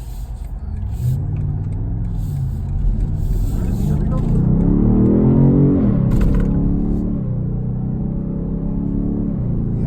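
A 2020 BMW M850xi Gran Coupe engine revs and accelerates with a rising, throaty roar, a brief spoken remark at the start, steady road rumble throughout.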